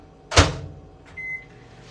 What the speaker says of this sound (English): I'm gonna put this in the microwave again.